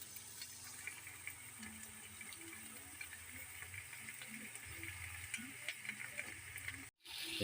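Steady crackling sizzle of a flour mixture cooking in a hot pan for scrambled eggs with squash flowers, with soft bubbling underneath, continuous and fairly close.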